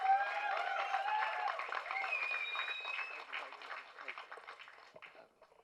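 Audience at a youth success meet applauds as Ken Karunas takes the stage, a lively clapping crowd with voices and cheers, gradually thinning and fading out.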